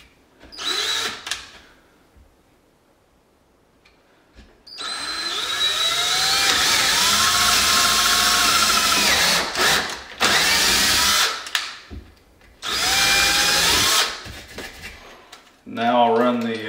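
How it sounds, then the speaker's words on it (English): A power drill bores a pilot hole for a lag bolt on a removable stair rail, whining loud and close in three long bursts with short pauses between them, after a few quiet moments. "So I'm going to drill a pilot hole."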